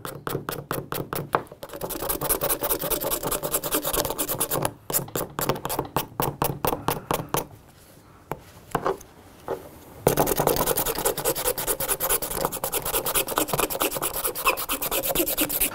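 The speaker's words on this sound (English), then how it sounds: "I just get the regular flat razor blade, and I just hold it straight up and down" Flat razor blade scraping a KTM motorcycle throttle tube, rapid rhythmic rasping strokes close to the microphone, with a brief quieter pause before the scraping resumes steadily.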